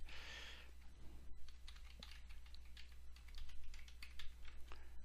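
Someone types an email address on a computer keyboard in quick, light, irregular keystrokes, close and fairly quiet, with a low steady hum beneath and no talk.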